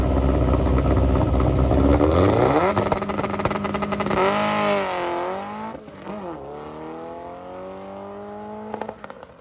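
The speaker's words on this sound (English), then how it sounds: "I should throw a video of this thing making a pass." A 1967 VW drag bug with a 2165 Volkswagen motor, naturally aspirated on 116 octane, makes a pass, its engine blaring at high revs and sweeping up through rising shifts before dropping back and fading, loud and close.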